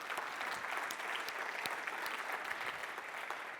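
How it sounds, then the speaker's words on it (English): A conference audience at a keynote gives the event organizers a round of applause, a dense, even patter of many hands clapping throughout, moderately loud and unbroken. "can we give them a round of applause"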